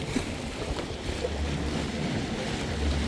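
Jet ski running across Lake Tahoe, a continuous broadband engine and water rush with wind buffeting the microphone, steady and close for a few seconds.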